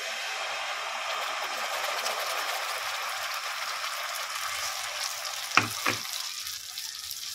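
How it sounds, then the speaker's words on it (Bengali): Tomato paste fries with browned onions in a pan while being stirred for a matar paneer curry, a steady close sizzle with a couple of brief clinks of the spoon near the end. "ভালো করে কষাতে থাকবো যতক্ষণ না টমেটোর গন্ধটা যাচ্ছে"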